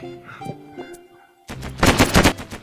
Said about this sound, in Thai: น้องนายทำไมยิงยานตัวเอง